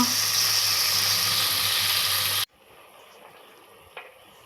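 Onions fry in a hot pan while being stirred, giving a loud, even sizzle for a couple of seconds that then drops away to a quiet room with one light tap.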